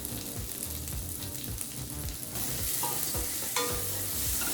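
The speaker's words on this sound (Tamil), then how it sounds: "நல்லா வதக்கிக்கலாங்க" Crushed turkey berries sautéed in a pan for sundakkai puli kulambu, with a steady sizzle under repeated scraping stirs of a spoon against the pan, close and continuous, no talking.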